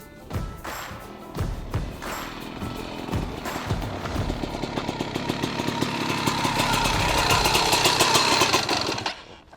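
A Black Panther 600 two-stroke motorcycle engine runs close by, a steady, chugging idle with dense rapid pulses and a few blips that builds slightly louder toward the end before cutting off.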